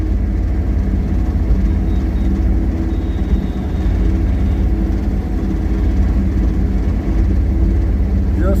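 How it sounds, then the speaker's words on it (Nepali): Steady vehicle engine drone and road rumble while riding along a highway near Koteshwor, continuous and loud, low-pitched throughout with no speech. "गाडीको आवाज"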